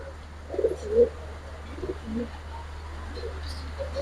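A Giribaz pigeon pair cooing indoors, with a few soft low coos spaced out over a steady hum.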